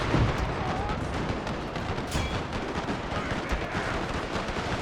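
Sustained battlefield gunfire from machine guns in Total War, set in the Anglo-Zulu War around a British fort, forms a dense, continuous crackling roar with overlapping bursts and no pauses, loud and close throughout.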